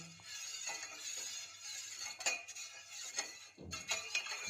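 A spoon stirs urad dal (black gram) porridge in a pot on the stove, giving light metallic clinks and scrapes over a faint steady background hum, with no talking.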